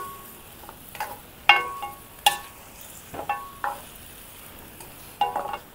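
Pork humba being stirred in a pot, a series of separate scraping clanks and knocks from the spoon against the metal, spaced irregularly over a soft background sizzle, with no talking.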